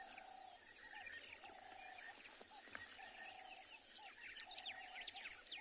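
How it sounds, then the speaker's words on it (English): Monotonous larks call at dawn during a South African morning safari: a steady, repeated whistled note keeps cycling over scattered chirps and twitters from other birds, moderately distant, with no voices. "All the monotonous larks waking up as well at the moment."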